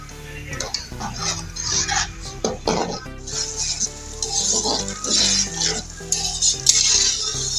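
Moong dal being stirred and roasted in a metal pot, a spoon scraping and clinking against the sides in a steady, busy rhythm, with light sizzling underneath and no one speaking.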